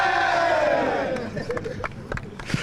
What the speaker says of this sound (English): I want to see that raised above the heads, and I want a massive cheer because that is fantastic from you boys